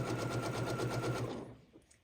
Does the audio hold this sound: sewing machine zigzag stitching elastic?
yes